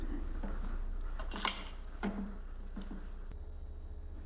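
Soft clinks and scrapes of a utensil against a bowl as cauliflower florets are stirred into batter for Gobi 65, a few light knocks spread over a few quiet seconds.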